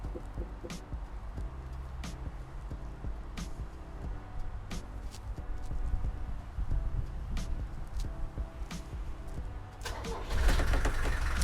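Mercedes 240GD diesel engine starting after the glow plug warms in the cold, a rough rhythmic cranking clatter with regular knocks that builds and then swells louder as it catches.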